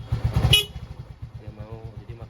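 A Denso single horn on a Yamaha scooter honks once briefly while the engine idles, then the motor keeps up a steady, rhythmic putter close by.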